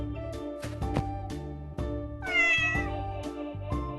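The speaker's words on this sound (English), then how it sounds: "Where is the cat?" A cat meows several times in a row, clear and close, amid a bouncy musical backing in a children's farm-animal cartoon, with no talking.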